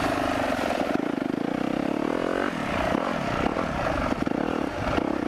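A KTM 350 dirt bike being ridden, its engine loud and close throughout with a steady buzzing drone that rises and falls in pitch as the throttle changes, with a noticeable shift partway through.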